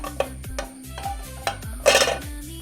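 A metal lid goes onto a cooking pot of raw papaya thoran, with a few light clanks and taps among quieter kitchen clatter and a brighter rattling clink near the end.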